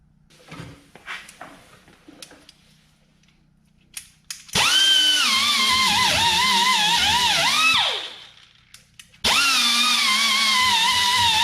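A power tool with a fiber pad whirs loudly in two long bursts, its pitch dipping under load as it scrubs rust off a car's rear brake parts, separated by a short pause.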